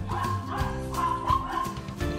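Dogs bark and yip close by, in a run of sharp, overlapping barks with a whimpering edge, loud and busy from start to finish.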